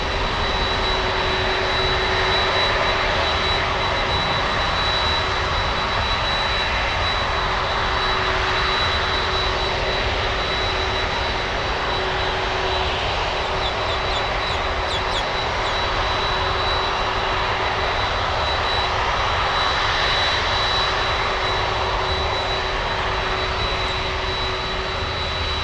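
A Boeing 767 taxis slowly toward runway 9 at Miami International Airport, its engines producing a loud, steady roar with a constant high whine throughout.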